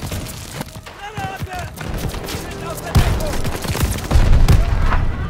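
Rapid bursts of gunfire and booming shots crackle repeatedly in the video game Call of Duty: Vanguard, growing louder, with voices calling out over the shooting.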